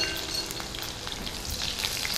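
Garlic and green chillies frying in a pan, a steady close sizzle with faint stirring throughout.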